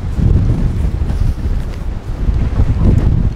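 Strong wind buffets the microphone on a seaside cliff edge, a steady, loud roar with gusts swelling and easing throughout, no other sounds standing out.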